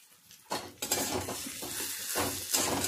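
Mashed potatoes being fried with spices and ginger paste in a pan, sizzling steadily while a spoon scrapes and clatters against the metal in several bursts, fairly close.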